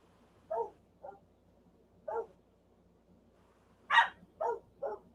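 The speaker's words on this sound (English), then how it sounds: "The hell are these dogs barking at?" Six sharp barks from dogs at a moderate distance, coming in scattered bursts with quiet gaps between them.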